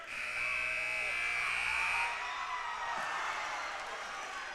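Knights fans cheer and roar in a high school gym after a last-second buzzer-beater attempt, a loud, dense crowd swell with a sustained buzzer tone early on before the noise settles into steady rowdy cheering.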